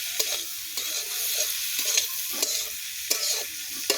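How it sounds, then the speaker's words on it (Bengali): Egg and potato bhurji sizzling in a pan while a spatula stirs it, with steady frying hiss broken by several sharp scraping strokes, close and alone without talk. "এবার তাই নেড়ে নেবো আমাদের এই ভুর্জি"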